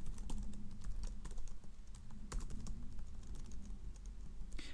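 Rapid typing on a computer keyboard, close and quiet, with irregular bursts of crisp key clicks and a few sharper key strikes throughout, no voice.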